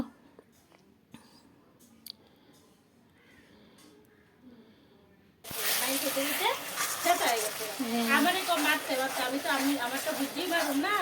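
Spices and tomato frying in a pan, a loud steady sizzle with crackles that starts abruptly halfway through after a quieter stretch of soft kitchen clicks.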